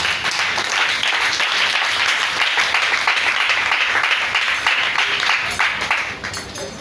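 A church congregation applauds loudly and continuously, a dense wash of clapping with some voices mixed in, tapering off at the end.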